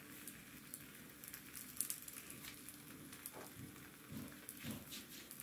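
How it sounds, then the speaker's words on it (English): Roti frying in a pan for a Cape Malay style meal gives off a soft, steady sizzle with faint crackles and patter, close by and quiet, with no talking. "You hear that sizzle? That is what you want."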